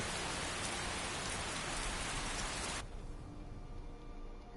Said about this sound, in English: it's raining here as well.